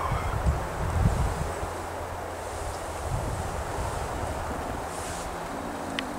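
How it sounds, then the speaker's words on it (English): Strong wind gusts roar steadily through trees in a woodland at a hog wallow, a dense rushing wash with low buffeting rumbles, close and continuous, with no talking. "Wind whipping some trees around now."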